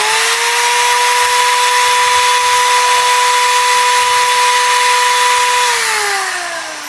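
An electric drill spinning a motorcycle speedometer for testing whirs at a steady high pitch for several seconds, then winds down slightly near the end, loud and close.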